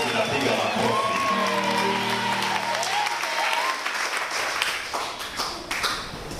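Congregation clapping during a church testimony, loud sustained applause from a crowd with a voice briefly rising over it, close and continuous throughout.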